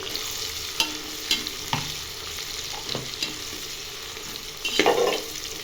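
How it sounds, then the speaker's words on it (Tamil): Onions frying in a pan for mushroom biryani, a constant close sizzle with a few sharp scrapes and knocks of the stirring spoon and a brief louder burst near the end. "இப்போ வெங்காயம் போட்டாச்சு கலந்துக்கலாம்"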